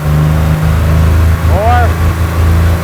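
A turbocharged Chevrolet S10 Syclone engine idles loudly up close, then gives one brief rev that rises and falls before settling back to its steady rumble.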